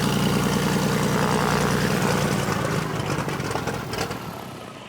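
A propeller aircraft engine runs close by on Avgas 100, a loud continuous droning roar that holds steady and then eases slightly toward the end.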